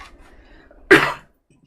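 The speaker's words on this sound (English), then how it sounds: "I coughed and talked and swallowed at the same time." A single short, sharp cough from a person at close range, following faint low murmuring. It is a choked cough, with talking and swallowing at the same moment.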